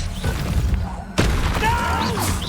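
A Confringo spell explodes in Hogwarts Legacy, a sudden heavy blast cutting through rumbling combat noise and followed by crackling, whooshing debris, loud and close.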